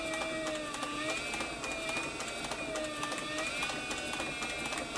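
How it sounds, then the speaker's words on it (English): Leather sewing machine driven by a servo motor, stitching in a groove with a closed toe foot; a steady, close mechanical whir with a rapid repetitive needle chatter running continuously throughout. "I like this servo motor because you can just really slow it down and concentrate on sewing right in the groove."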